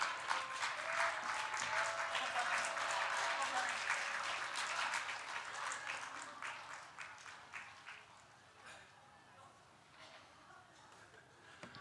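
A church congregation at a Sunday service applauds its graduates, the clapping swelling loud and thick before thinning and trailing off toward the end, with some murmuring voices mixed in.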